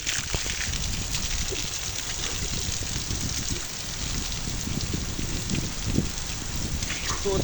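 Steady rain falling outdoors near a temple, a dense, even hiss of drops on surfaces that continues without a break, with faint voices now and then.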